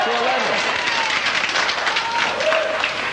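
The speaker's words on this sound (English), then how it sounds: "here comes another cheer, I think." A studio audience at a televised song contest cheers and applauds in a steady, loud burst, with voices audible beneath the clapping.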